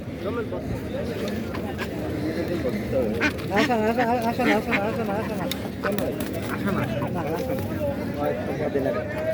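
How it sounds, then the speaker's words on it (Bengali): A group of ducks quack repeatedly in close, overlapping bursts, with people chattering in the background. "দেখি কত মোটা হাঁস"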